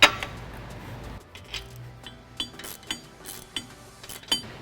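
Wrench clicks and metallic clinks from tightening the two flange nuts on a Ford F150 EcoBoost downpipe, a series of short sharp ticks spaced about half a second apart after a brief low rumble, fairly close and otherwise quiet.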